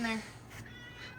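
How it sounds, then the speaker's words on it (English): A pet cat on a boat gives a short meow at the very start, fairly close, followed by a brief stretch of quieter background sound. "I have a cat."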